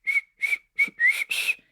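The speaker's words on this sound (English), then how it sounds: "Cooper is whistling the same tune as he's driving" Someone whistles a short tune while driving, in five clear, bright phrases separated by brief pauses, close and alone with no talking, from the TV series Twin Peaks.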